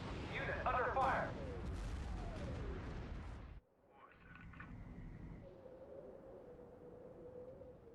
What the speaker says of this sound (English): Naval artillery is covering us.